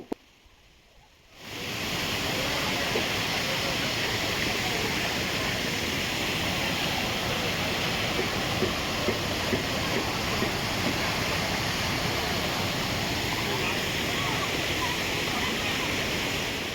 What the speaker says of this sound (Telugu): ఇక్కడ మనం మళ్ళీ ఇంకో వాటర్ ఫాల్స్ని అయితే చూడవచ్చు